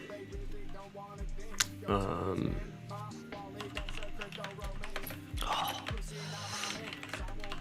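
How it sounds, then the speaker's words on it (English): Rapid typing on a computer keyboard, a steady patter of close clicks and key taps running throughout, with someone talking over it. "I'm like typing this answer out to Crimey"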